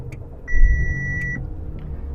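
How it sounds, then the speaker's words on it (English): An Audi engine cranks and catches, with a low rumble swelling under a steady electronic warning chime and a few short beeps inside the car. "So I'm going to start the engine."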